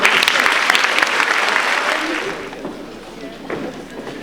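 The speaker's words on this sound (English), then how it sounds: "A round of applause." A school prizegiving audience claps, a loud burst of applause that tapers off over a few seconds, with a voice briefly under it.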